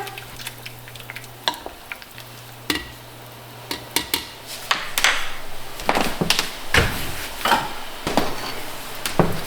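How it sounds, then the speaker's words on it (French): Miso soup being stirred in a pot with a utensil: irregular close clinks and scrapes against the pot over a soft, steady simmer, growing busier toward the end. "Et avec un instrument quelconque, je vais venir juste brasser le tout."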